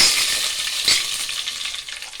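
Bay leaves and red chilies frying in hot oil for masala rice give a steady, loud sizzle with a brief stirring scrape partway through.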